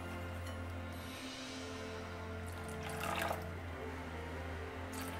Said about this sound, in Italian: Quindi continuiamo ad aggiungere un altro po' di acqua.